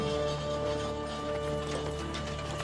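Horses' hooves clip-clopping in a steady, dense patter under a droning musical bed, fairly loud and continuous with no voices.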